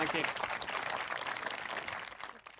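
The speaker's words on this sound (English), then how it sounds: "let's have a big round of applause for David again" Audience applause for David at a mad scientist tea party event, a dense wash of clapping that starts strong and gradually thins toward the end, with some voices mixed in.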